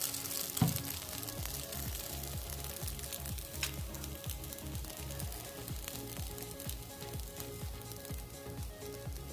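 Rava appam batter (sooji appe) sizzles and fries steadily in an appe pan over a low gas flame, a soft continuous crackle with faint rhythmic bubbling and no talk.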